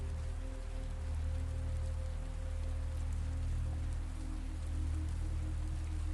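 Steady rain falling, a dense, even hiss of drops over a constant low rumble, unbroken and uniform from start to finish.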